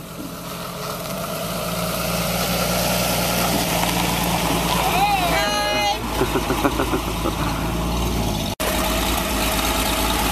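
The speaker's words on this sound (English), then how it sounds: "Driving my sweet baby's 1958 Ford" A 1958 Ford car's engine runs steadily and close, with a low continuous drone; a voice talks over it and a brief tonal whine rises partway through.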